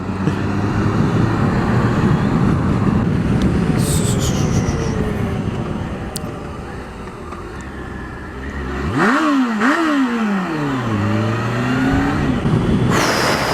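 A Kawasaki GTR1400 sport-touring motorcycle accelerates hard on the road, its engine note climbing and dropping through quick gear changes over a steady roar of wind and traffic.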